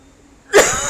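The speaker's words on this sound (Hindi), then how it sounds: "सॉरी थोड़ा सा खांसी हो गई है" A single sudden cough bursts out close and loud after a brief quiet moment during a lecture.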